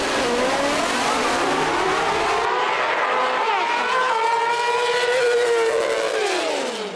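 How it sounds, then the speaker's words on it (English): A 400cc Thunder class racing motorcycle engine buzzes loudly and continuously on a racetrack, its pitch sweeping up and down through gear changes as it passes. "you could hear the engine really buzz there for Brad Lemberg at the other end"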